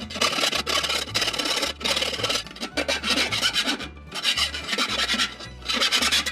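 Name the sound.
filing metal part with a hand file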